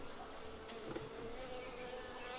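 Honeybees buzz steadily around a long Langstroth hive under an overcast sky, a dense, continuous drone of many insects close by, with one or two louder passes of individual bees.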